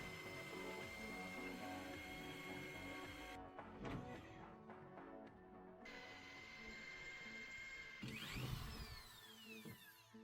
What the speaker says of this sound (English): I have to drill a couple of holes down in the bilge of the forward cabin